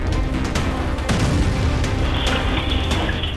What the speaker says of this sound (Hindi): लेबनान से लॉन्च किया गया रॉकेट एक बिल्डिंग के बाहर गिरकर फटा